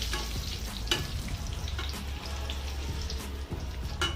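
Mustard seeds and dried red chillies frying in hot oil, a loud close sizzle broken by sharp spitting pops and the scrape of stirring, steady throughout.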